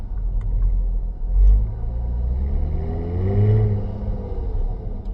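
A tuned V6 Jaguar F-Type with a Stage 4 tune accelerates hard through the gears, its deep exhaust rumble rising in pitch, dropping briefly at each quick shift, and climbing again, loud and close with no talk.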